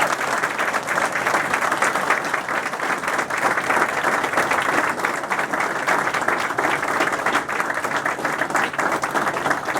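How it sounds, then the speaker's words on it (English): Sustained applause from a crowd honoring standing veterans at a Memorial Day ceremony, steady dense clapping at even loudness throughout with no speech over it. "Please show your support by giving them a round of applause."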